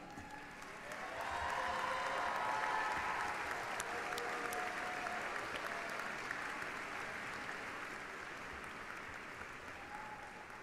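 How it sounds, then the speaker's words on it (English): A graduating class of 2019 gives faculty and staff a standing ovation at an undergraduate commencement, dense crowd applause swelling after a second, holding steady and slowly easing off, somewhat distant and alone without talk. "I would ask that our students give a standing ovation for the faculty and staff who have dedicated their lives to learning and development"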